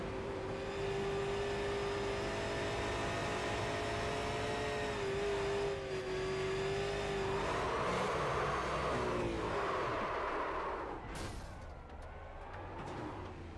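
Onboard a race car at the Brickyard as it spins and slams the top wall, with a loud, steady engine drone and whine that shifts pitch and breaks up into rough, noisy bursts near the end.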